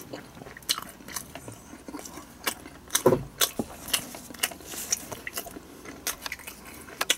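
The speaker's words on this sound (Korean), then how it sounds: "자, 찍어서 먹어볼까요? 듬뿍 찍어서" Crunchy bites and chewing of thick, pizza-like naan dipped generously in spicy chicken curry, with scattered close mouth sounds and rustles and one louder crunch near the middle, no talking.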